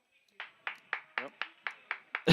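Eight sharp hand claps in a slow, even rhythm, fairly close and alone, with a final louder burst at the end, heard during a VCT Pacific esports match broadcast.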